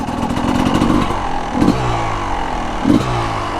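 A Honda CR250 two-stroke dirt bike engine, struggling to idle, runs close and loud with a raspy, uneven idle broken by a few short blips of revving.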